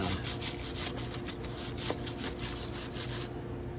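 Wire brush scrubbing carbon buildup off a junkyard Harley Knucklehead engine, a close, continuous rhythmic scraping with evenly repeated strokes that cuts off shortly before the end.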